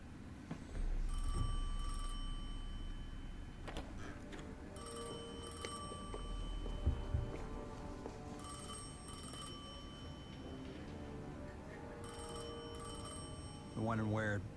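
A telephone rings in the video game Destiny 2, repeated bursts of bright electronic trilling in evenly spaced rings over a low ambient drone, with a voice speaking between them.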